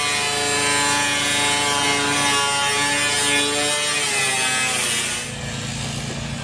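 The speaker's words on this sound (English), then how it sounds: "So he is practicing with the grinder now." A grinder cuts a large window opening in a wall during an Oregon roof raise, producing a loud, steady, high-pitched whine that holds for about five seconds before dropping to a lower hum.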